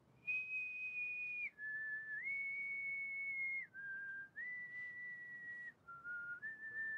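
Whistled melody of the opening of a song, a clear solo whistle holding long steady notes that step down and up in a short phrase, heard alone over a quiet background.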